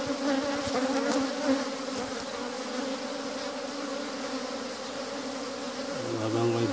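Honey bees buzzing in an open two-storey beehive, a dense continuous drone close by that holds steady throughout, with a deeper hum joining near the end.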